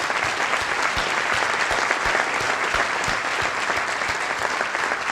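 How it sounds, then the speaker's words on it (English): Sustained applause from an audience honoring city employees at a State of the City address, steady dense clapping filling the room for the whole stretch with no talk over it. "Let's join me in applauding their work,"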